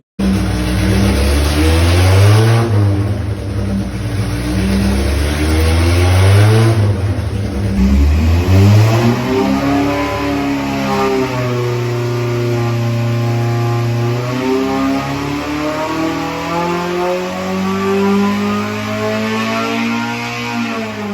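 A loud car engine on a dyno revs repeatedly, pitch climbing and falling in long sweeps, then holds a steady high drone, close and continuous throughout.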